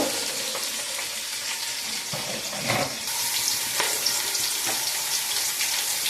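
Onions frying in hot oil for a sambar tempering give a steady, close sizzle with brief stirring scrapes, continuous through the whole stretch with no talking.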